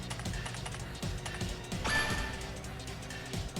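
Keyboard typing inside a horror video game, a few scattered clacks and taps over game noise and a brief crash-like burst, fairly close.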